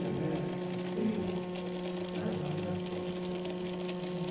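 A small DC motor switched by a 24-volt relay module under PLC control hums steadily and evenly, a constant low whirr with a faint mechanical buzz and no pauses.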